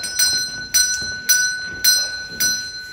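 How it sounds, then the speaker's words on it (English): An old servant's bell from a chateau rings in five evenly spaced, bright metallic strikes, each with a sustained high ringing tone, close and clear with no talking. "which is an old servant's bell from a chateau that we purchased at the Brocante"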